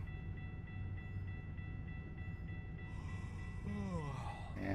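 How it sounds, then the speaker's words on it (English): A train rumbles steadily past in Fort Stockton, Texas, heard from a vehicle, with a sustained low roar and a rising whine or horn-like tone toward the end. "Here's the train."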